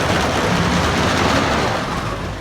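At Six Flags, the El Toro wooden roller coaster train runs fast over a hill with a loud, dense, steady roaring rumble that holds strong throughout and eases only slightly at the end.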